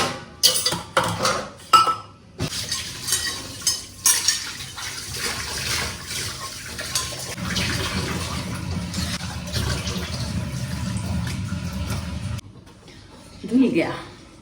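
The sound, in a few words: washing dishes, pots clinking in kitchen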